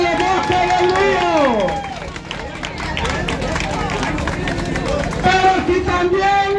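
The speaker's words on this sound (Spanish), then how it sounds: "¡Aplausos, señores, para el Bosque del Río!" At a town festival proclamation event in Sonsonate, an outdoor audience breaks into crowd applause and cheering for the Bosque del Río group, a few seconds of clapping following and preceding a loud announcer's voice.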